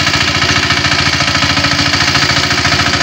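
A kuliglig hand tractor engine runs in a farm field, a loud, close, steady chugging drone with a fast, even pulsing beat throughout and no talking.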